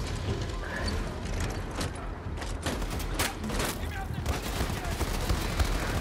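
Gunfire in Wolfenstein II: The New Colossus: a steady, dense wash of rapid shots, explosions and combat noise fills the whole stretch at a constant loud level, with no clear pauses.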